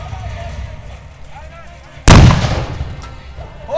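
A large cannon fires during a castle siege reenactment at Patca, one loud sudden boom that rolls off into a long rumbling decay, preceded by a quieter outdoor crowd murmur.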